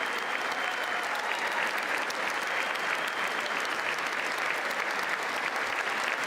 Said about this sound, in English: Both Democrats and Republicans, all of them seem to be standing and applauding as they wait for the president to speak